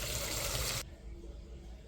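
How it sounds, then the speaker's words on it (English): Hot water gushes steadily from a tap into campsite washing-up sinks as they are rinsed, loud and close, then cuts off abruptly, leaving quiet room noise. "Just got to rinse the sinks out."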